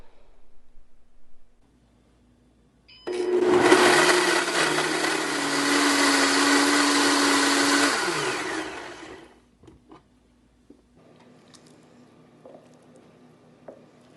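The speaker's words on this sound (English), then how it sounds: "let's put it all in our blender" A blender blending butternut squash soup whirs loudly for about six seconds, starting abruptly, holding a steady high-pitched motor roar, then winding down into quiet.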